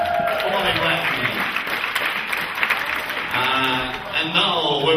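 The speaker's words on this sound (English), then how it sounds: "Your applause to Bobby." Audience applause at a show, a steady wash of clapping throughout with a host's voice talking over it.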